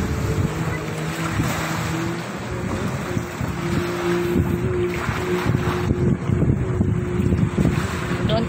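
Jet skis hum out on the sea off Durrah Beach, a continuous buzzing engine tone blended with wind buffeting and waves, steady and moderately close throughout.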